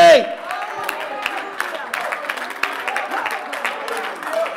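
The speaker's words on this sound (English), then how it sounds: "Come on, clap your hands and give God glory." Church congregation clapping during Sunday morning worship, a crowd of hands applauding steadily with scattered cheers and voices mixed in, fairly close and lively throughout.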